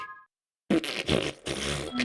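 A voice imitates the squelching, farting suck of a foot pulling out of swamp mud, a short wet burst after a brief pause that rises and falls across several loud puffs.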